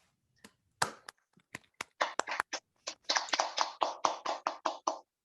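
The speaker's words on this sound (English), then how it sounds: "please give a round of applause" A small seminar audience gives a round of applause to welcome a speaker, starting with a few scattered sharp claps. The claps then build into a quicker, steadier run of close, distinct hand claps.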